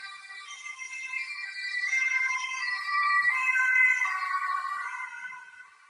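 An emergency siren wails steadily from a distance. Its rising and falling tones fill the whole passage, which has no talking.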